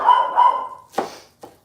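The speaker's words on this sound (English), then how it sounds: "Lucy's barking at the construction people working on the road" Lucy the dog barks at road construction workers, a couple of short sharp barks and a yip ringing out nearby after a faint whine.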